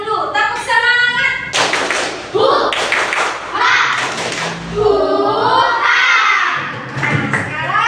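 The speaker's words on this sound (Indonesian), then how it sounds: "sekarang tepuk semangat dulu. Tepuk semangat." A classroom of students performs a rhythmic clapping cheer, brisk group claps and thumps mixed with children's shouting and chanting voices, loud and close throughout.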